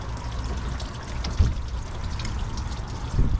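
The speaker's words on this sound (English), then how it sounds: "I do have a drain pan underneath there, catching as much as I can." Hot engine coolant drains from a Chevy 4.3 V6 into a drain pan underneath, a continuous close pouring and splashing stream with a couple of heavier gushes.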